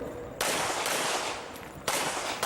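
Pistol gunshots at an IPDA shooting match stage at the Mecklenburg Wildlife Club: a few loud, sharp outdoor reports spaced under a second apart, each followed by a long ringing tail that blurs into the next.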